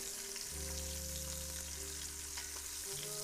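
Food sizzles and crackles steadily in a hot pan, loud and continuous, with a low electrical hum running underneath.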